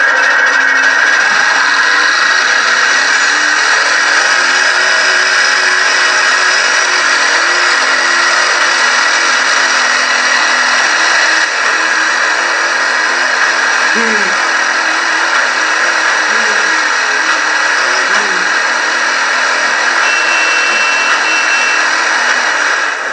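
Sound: Proto Hornet boat at full speed in video game The Crew 2

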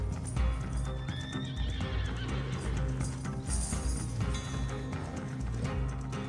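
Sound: horse neighing in video game Red Dead Redemption

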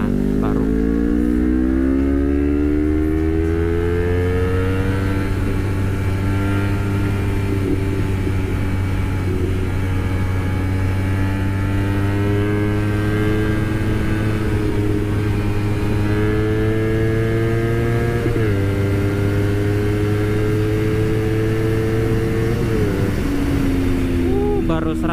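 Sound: Honda CBR250RR motorcycle accelerating at full throttle

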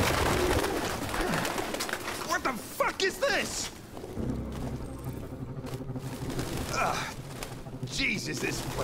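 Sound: pigeons cooing in Detroit: Become Human video game

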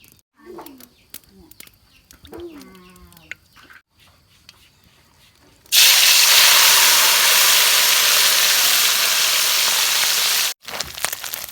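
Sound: fish frying in hot oil

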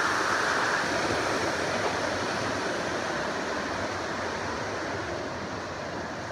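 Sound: small waterfall beside Appalachian Trail

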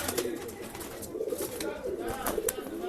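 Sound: pigeon cooing

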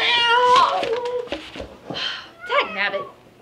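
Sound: cat meowing

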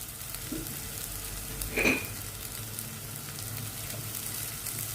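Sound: masala sautéing and sizzling in pan for prawn thokku

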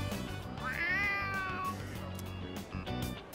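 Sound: cat meowing in video game Persona 3 Reload

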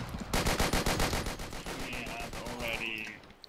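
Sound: gunfire in the video game Forgotten Hope 2

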